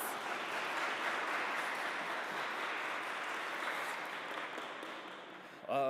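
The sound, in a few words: audience clapping hands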